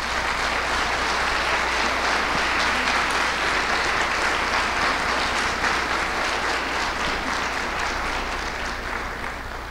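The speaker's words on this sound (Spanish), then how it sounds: "te mandamos un aplauso de bienvenida" A church congregation claps in welcome during a Sunday service, a thick, continuous wash of applause from many people that holds steady for nearly ten seconds before easing slightly at the end.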